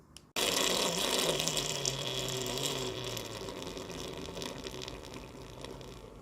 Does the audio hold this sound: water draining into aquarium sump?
yes